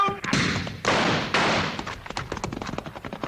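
Gunshot in an old western drama, a loud sharp bang followed by a second heavy blast, then a rapid patter of smaller knocks and thuds as the sound fades.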